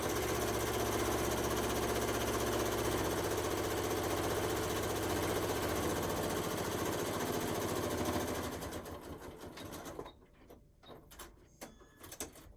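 A sewing machine stitching through quilt layers with batting hums steadily and loudly for about eight seconds, then slows into a few short bursts and stops.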